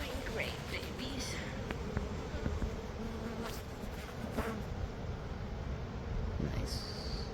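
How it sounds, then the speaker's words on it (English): A swarm of honeybees two stories up, about 250 of them on a hand, buzzing in a dense continuous drone close by, with people talking over it. "That's about 250 bees on your hand."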